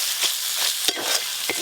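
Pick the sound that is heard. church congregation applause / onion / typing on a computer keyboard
onion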